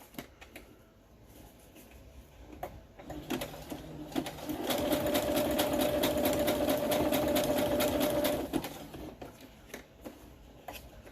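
A sewing machine stitches an appliqué patch on paper with orange thread, starting after a few scattered taps and running in a steady whir for about four seconds before stopping; quiet handling noises before and after.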